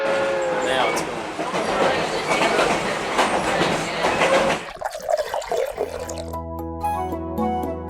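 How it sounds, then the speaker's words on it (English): A vintage steam locomotive on the Durango and Silverton narrow gauge railroad rumbles and clatters steadily up close, then a sustained low whistle-like tone takes over near the end. "now this vintage steam locomotive is only a tourist and heritage line"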